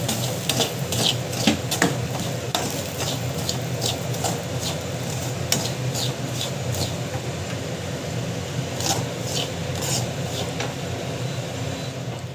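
Semolina roasts in a pan over a steady dry sizzle, with a spoon scraping and stirring in repeated clicks and strokes close by, busier at the start and continuing throughout.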